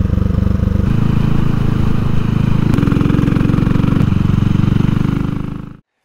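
A 2022 CCM Spitfire Six Stealth motorcycle riding along, its single-cylinder engine thrumming loud and close with a steady pulsing beat and a brief shift in pitch midway before cutting off.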